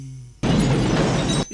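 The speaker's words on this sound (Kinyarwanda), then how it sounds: "Imodoka iraturitse wangu, irahiye." A car blows up in a sudden loud blast that cuts in after near silence and holds as a dense, roaring burst for about a second before stopping abruptly.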